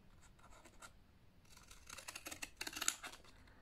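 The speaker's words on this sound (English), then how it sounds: "a little trim with some pinking shears" Pinking shears trim paper in a series of close, quiet snipping and crunching cuts, sparse at first and then quickening into a denser run of cuts.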